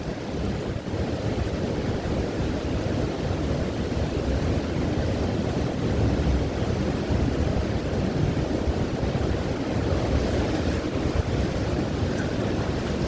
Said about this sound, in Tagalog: Sobrang lakas talaga ng hangin ngayon.